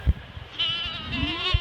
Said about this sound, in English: What are those, sheep?